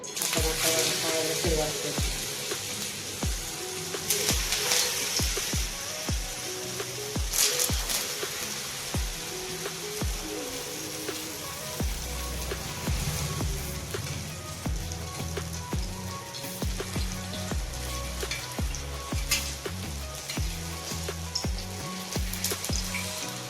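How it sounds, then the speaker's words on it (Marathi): Sabudana vada deep-frying in hot oil bubble and crackle in a steady, close sizzle with irregular pops and spatter, continuing throughout with faint background talk. "तेल पण तापायला ठेवले आणि लगेच तळायला सुरुवात करते"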